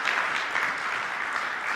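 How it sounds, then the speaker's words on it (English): A conference audience on civil society in Uganda claps after a keynote speech, a steady, full round of applause from many hands that holds its level throughout. "let's give Dr. Muvawala a very, very big round of applause."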